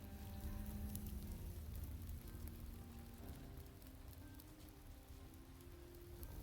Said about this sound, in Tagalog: umuulan sa farm